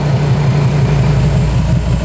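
A chipped Fiat Marea 2.4 engine idles steadily with a low, even rumble and no misfires, loud and close throughout.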